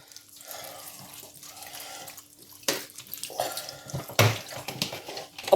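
Water rinses salt out of kimchi in a kitchen, with uneven running and splashing that rises into sharper bursts of pouring and sloshing toward the end.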